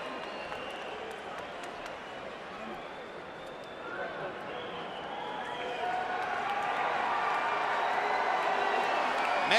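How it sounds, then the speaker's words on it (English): Boxing crowd at a Pacquiao vs Barrera rematch booing Marco Antonio Barrera as he tours the ring, a dense sustained roar of voices that swells louder toward the end. "Filipino fans booing Barrera as he tours the ring."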